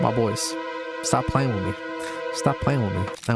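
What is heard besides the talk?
No distinct noise like a dog, phone or traffic.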